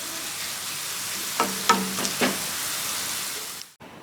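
Onions fry in a pan with a steady close hiss, broken by a few quick scraping stirs midway before the sound cuts off; no talking.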